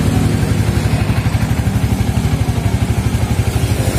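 A cold Yamaha Vixion motorcycle engine idles steadily at around 1500 rpm, a loud, close, even single-cylinder putter with a fast regular pulse and no talking.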